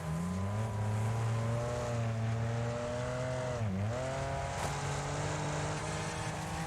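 Race car engine in the racing video game Wreckfest holds a loud, buzzing exhaust note in a high gear. The pitch dips briefly midway and then recovers, with no talking.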